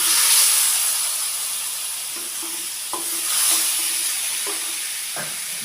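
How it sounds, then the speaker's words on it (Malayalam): Cooked tapioca going into a hot pan of fried onion and crushed chilli, bringing a steady close sizzle and hiss with a few soft clacks of a spoon or spatula scraping and stirring, no voices. "ഇതിലേക്ക് നമ്മൾ വേവിച്ച് വെച്ച കപ്പ തട്ടിക്കൊടുക്കുകയാണ്."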